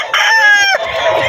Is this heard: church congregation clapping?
no